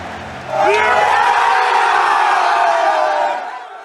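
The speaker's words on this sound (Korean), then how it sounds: "중계를 지켜보던 리버풀 선수들이 환호성을 터뜨립니다" Liverpool football players watching a broadcast erupt into loud cheering and whooping at winning the league, a sudden burst of excited shouts that holds for a few seconds before fading.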